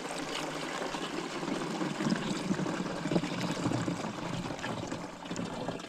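Water pours steadily into a container while raspberry plants are fed, giving a soft continuous trickling and splashing that stays fairly faint and even throughout, with no voices.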